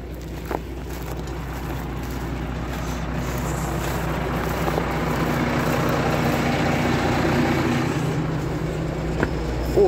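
Tractor engine running steadily while ploughing a frozen, hard field on a freezing evening, a low continuous drone heard from the cab, with a slight swell toward the end and faint wind.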